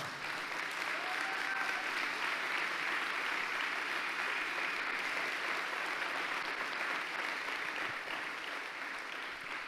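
A Sunday night church congregation gives Jesus strong, loud applause, nearly ten seconds of dense, unbroken clapping from a large crowd at a constant level that eases slightly at the very end.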